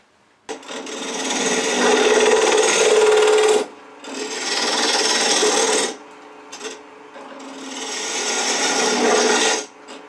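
A wood lathe cuts a tenon on a wig stand blank, the tool scraping in three sustained rasping passes with short pauses between, close and loud with no talking.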